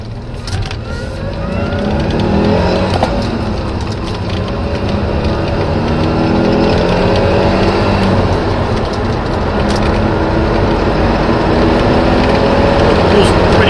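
A 1990 Renault Alpine V6 Turbo with a single-turbo PRV engine drives along, a steady engine drone and road rumble heard from inside the car while people talk over it.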